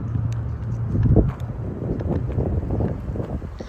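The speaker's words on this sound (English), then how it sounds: "it's like super windy and cold" Gusty wind buffets the microphone in low rumbling bursts on a cold mountaintop, with faint clicks and thuds scattered throughout.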